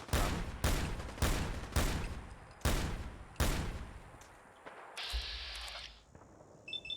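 An energy weapon in Fallout 4 fires five loud, evenly spaced blasts, each followed by a decaying echo, then an electronic hum and beeping take over, with no talk.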